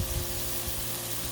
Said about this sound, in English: A lot of sausage on the griddle.